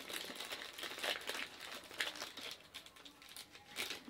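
A paper grocery receipt crinkled and handled close up, a continuous rustle with soft crackling peaks, no talking.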